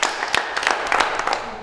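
Young children in a classroom clap for themselves, a short, scattered round of light hand claps close by that lasts under two seconds.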